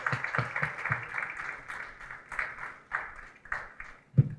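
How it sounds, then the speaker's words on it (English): Scattered rhythmic handclaps from a graduation ceremony audience at an HR mentoring programme, fairly quiet and uneven, with bursts rising and falling over several seconds. "Give them a round of applause."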